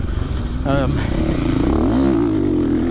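A 450cc motocross bike's engine drones steadily, with pitch rising and falling as the rider works the throttle. The engine sounds close, and a voice talks over the running motor.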